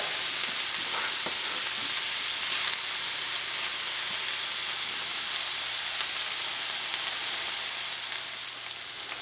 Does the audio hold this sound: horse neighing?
no